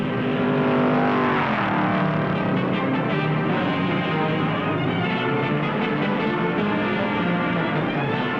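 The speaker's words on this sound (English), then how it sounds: "Petty in number 42 Oldsmobile, Beauchamp in number 73 Thunderbird in a showdown race, pasted together at 135 miles an hour" NASCAR stock cars, an Oldsmobile and a Thunderbird, racing side by side at about 135 mph, a loud continuous engine roar with shifting pitch as the cars pass, with no commentary heard.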